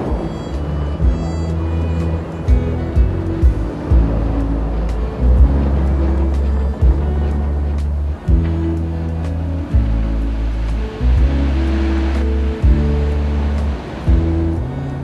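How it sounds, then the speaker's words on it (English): An old Murray River pumping engine, started by cranking the flywheel, chugs in a slow, heavy rhythm of regular deep thumps, loud and near, with a constant mechanical rumble underneath. "crank down on the flywheel and actually get the main engine into motion"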